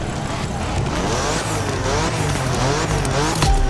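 A BMW M4 launching in TC Motorfest gives a loud, close engine roar that climbs through the revs as the car accelerates hard, with tire squeal over a steady, driving growl.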